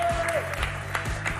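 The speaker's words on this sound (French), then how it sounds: "on les applaudit" A game show studio audience applauds the contestants, giving steady clapping at moderate volume while a host's voice and short musical notes sound over it.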